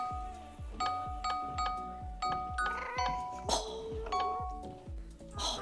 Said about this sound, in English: That's the Jingle Bells song.